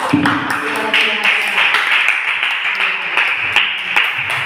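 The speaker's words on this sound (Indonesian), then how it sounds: "Kita tepuk tangan dulu untuk kita semua" Group of teachers clap hands together in a room, a loose run of claps with voices and talk going on underneath.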